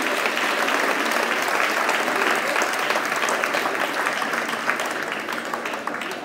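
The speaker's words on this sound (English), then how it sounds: "let's give her a round of applause." Audience at a 2017 school prize giving breaks into sustained applause, a dense even wash of many hands clapping that holds steady for several seconds, then thins slightly toward the end.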